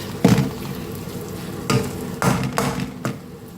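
Prawns in masala sizzle in a hot pan, with a few distinct stirring scrapes and clanks of the spoon against the metal, over a soft constant frying hiss.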